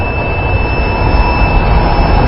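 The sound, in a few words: biosafety cabinet exhaust blower running during valve closure test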